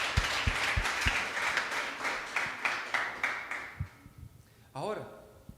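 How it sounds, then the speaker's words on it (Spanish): Church congregation applauding during a Spanish-language Christian sermon, a dense wash of clapping that thins and fades over several seconds, with scattered louder claps and a voice rising briefly near the end. "¿Cuántos damos un aplauso al Señor?"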